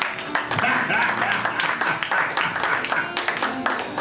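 Audience applause at a comedy-style stage show: a broad, continuous burst of crowd clapping with cheering voices mixed in, loud and sustained throughout.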